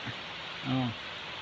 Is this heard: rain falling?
yes